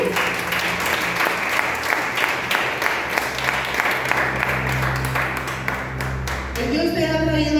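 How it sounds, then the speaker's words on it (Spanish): Congregation applauding during a Spanish-language church service, a dense, steady wash of clapping that runs throughout, mixed with music and a speaking voice, with voices rising near the end. "damos un fuerte aplauso"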